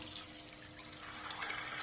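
Water is poured over washed fava beans for soaking, making a soft, continuous splashing and running sound at low level.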